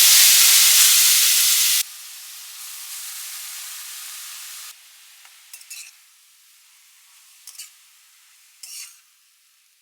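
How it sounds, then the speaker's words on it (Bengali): Grated carrots fry in ghee for carrot halwa, a loud broadband sizzle up close at first that drops to a softer steady hiss, broken by a few brief stirring scrapes. "গ্রেট করা গাজরটা একটুখানি ফ্রাই করে নেবো ঘিতে"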